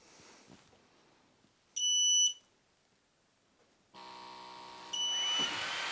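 A Creality Falcon 2 40W laser engraver starting up, giving a short loud electronic beep, then a steady whirring fan or air-pump hum joined by a second high beep and louder running noise.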